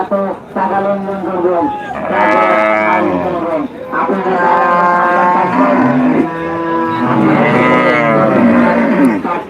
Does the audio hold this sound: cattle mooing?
yes